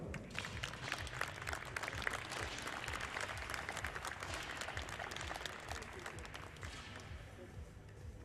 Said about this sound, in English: your applause, your appreciation for Claudia Kunz-Indekumen.